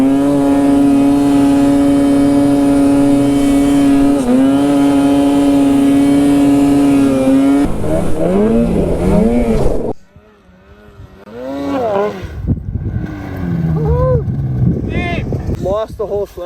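Ski-Doo and Polaris snowmobile engines drone loudly and steadily, then rev and whine in rising and falling bursts, dropping off sharply before revving again as riders talk over the noise.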